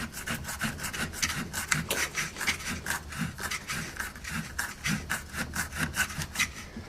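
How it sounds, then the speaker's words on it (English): A plastic nut is wound by hand onto the shaft of a Fisher and Paykel washing machine, making a close, rhythmic rasping and scraping with a steady back-and-forth beat and no voices. "Just slide it back over that shaft and wind up the plastic nut until it becomes tight."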